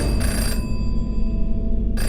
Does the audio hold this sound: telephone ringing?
yes